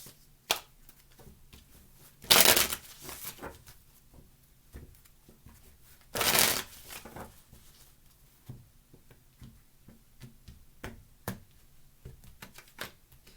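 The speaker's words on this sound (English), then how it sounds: "Two more shuffles." Two bursts of tarot card shuffling, each lasting about half a second, separated by a few seconds of quiet soft taps and handling noises.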